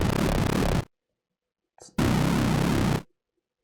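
Harsh, dense synth bursts from Ableton's Wavetable warp effect under modulation, two loud sustained blasts roughly a second each separated by silence, with a short flicker of sound before the second.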